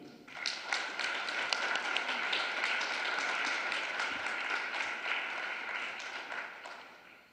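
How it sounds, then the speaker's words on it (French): Audience at an intellectual property launch event in Haiti bursts into sustained applause, a dense patter of many hands clapping at moderate distance that swells and then gradually tapers off. "M. Franck Etienne, que je vous demande d'applaudir"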